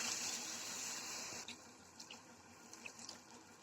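Water runs in a steady pour into a cooking pot, then gives way to a few scattered drips and splashes, close by and fairly quiet.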